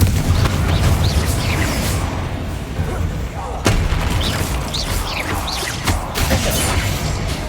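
Confringo blasting spell explosions in the video game Hogwarts Legacy: a dense, steady rumble of booming game effects with a sharp, loud blast midway, then continued crackling bursts.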